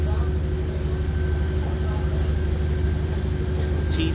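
A Class 150 diesel multiple unit idles and rumbles steadily from inside the carriage, a low, even engine purr with a faint whine above it, continuous throughout.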